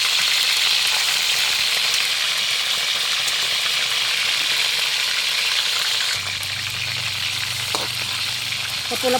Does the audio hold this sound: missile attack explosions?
no